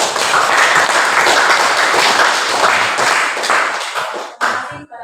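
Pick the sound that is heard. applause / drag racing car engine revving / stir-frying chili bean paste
applause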